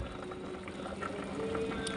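Pumpkin soup bubbles in a pot in a steady, quiet boil with faint pops and gurgles and no talking.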